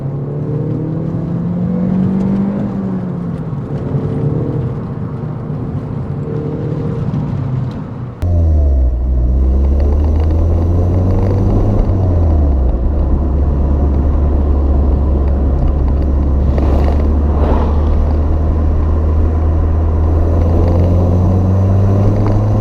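A Volkswagen Lupo GTI hot hatch engine revs up through the gears while accelerating, heard from inside the cabin, a loud steady drone rising in pitch, with a short dip at a gear change before climbing again.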